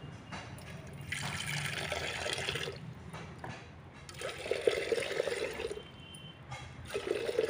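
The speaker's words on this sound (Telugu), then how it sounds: "అదే గ్లాస్తో ఐదు గ్లాసుల నీళ్లను పోసుకోవాలి" Water pours and splashes in several bursts with short pauses between, filling a pot nearby at a moderate, steady level.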